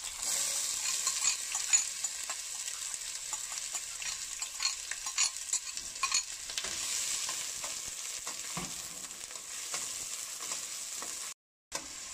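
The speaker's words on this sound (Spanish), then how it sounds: "vamos aquí a sofreír un poco nuestra cebolla. Ya está el aceite caliente" Chopped onion sautéing in hot oil in a pan for fresh fava bean soup, giving a steady, close crackling sizzle with occasional stirring scrapes throughout and no talking.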